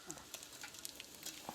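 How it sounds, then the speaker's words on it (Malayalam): Whole spices such as cumin, bay leaf, cinnamon, star anise, cloves, cardamom and mace roast dry in a pan, giving a faint crackle with light clinks from stirring. "ജാതിപത്രി ഇതെല്ലാം കൂടെ ഇട്ട് ഒന്ന് വറുത്തെടുക്കുക"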